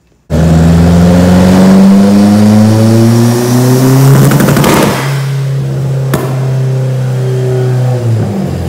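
A turbocharged Mazda Miata engine revs loud and close, climbing steadily in pitch, then stutters into rapid choppy popping as it hits overboost fuel cut, and then holds a strained high drone that drops off at the end.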